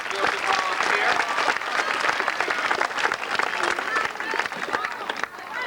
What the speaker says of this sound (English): let's have a nice round of applause for Joe